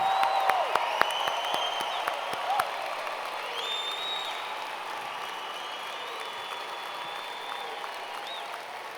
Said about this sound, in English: Let's give a rousing round of applause to all of our graduates.